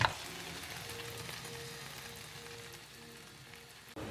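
A noodle mixture with cooked egg poured into a hot frying pan for handmade spinach noodles: a quiet, steady sizzle like light rain, continuous and close, with a faint clunk at the end and no talk.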